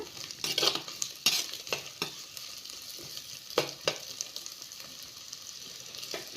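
Chopped large onions frying in a pan for a tomato egg gravy, stirred with a spoon: a soft sizzle under clustered scraping and clinking strokes, close and moderately loud, with no speech.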